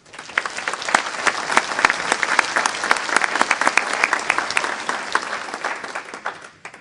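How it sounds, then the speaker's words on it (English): Audience applause fills a business meeting hall, many hands clapping densely and steadily at close range, holding strong throughout before tapering off right at the end. "I'd like to offer them a round of applause"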